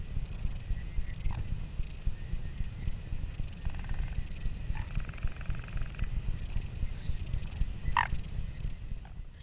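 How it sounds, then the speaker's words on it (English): Soft, regular grey tree frog calls pulse steadily throughout, a repeating chirring croak over a low rumbling background, with a few brief clicks scattered in. "So that's the sound of the grey tree frog as well."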